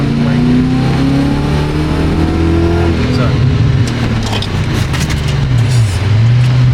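A BMW E34 engine with an X-pipe exhaust revs loudly and steadily close by, pitch climbing and then dropping sharply as the car brakes hard with a big brake kit, with voices talking over it.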